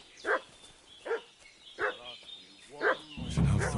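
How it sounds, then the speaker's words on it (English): A dog barks repeatedly in Kingdom Come: Deliverance II, four or five evenly spaced, moderately loud barks carrying over a faint ambient background, ending as a rough rustling noise rises. "What's that dog making such a fuss about?"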